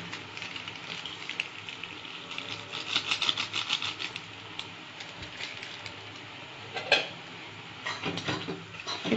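Instant noodles are stirred with instant noodle masala in a pan with a little water left, giving steady scraping and rubbing against the metal, soft sizzling and occasional louder clinks, with no talking.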